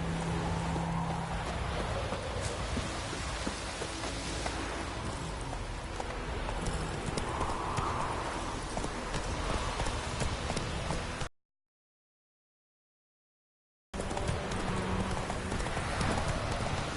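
The horse Roach gallops in The Witcher 3, with continuous rhythmic hoofbeats over ambient game sound, broken by a few seconds of silence before the galloping resumes.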